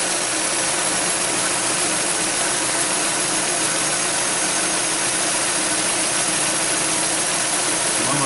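A Ford Edge 3.5L engine idles in the cold with a noisy power steering belt, a loud, dense, steady whirring and chattering drone that continues unbroken, close to the engine.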